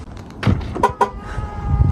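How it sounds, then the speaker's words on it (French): Motorised door on a Tesla Model X, a full self-driving equipped electric SUV, opening by itself, heard as a soft mechanical whir with a few clicks and clunks close by, no talking. "on va ouvrir la porte"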